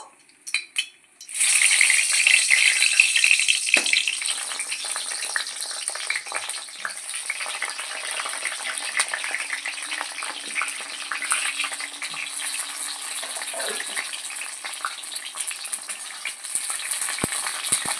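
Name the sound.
eggplant pieces frying in hot oil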